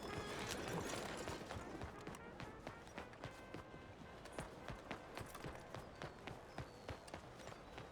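A horse gallops in Red Dead Redemption 2, its hooves beating a fast, steady clip-clop rhythm that stays close and clear throughout.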